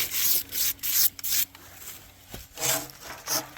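Rough scraping strokes across the bark of a log to clear dirt, grit and rocks before a cut on a Wood-Mizer sawmill, several close, uneven rasping passes with brief pauses between them and a faint hum beneath.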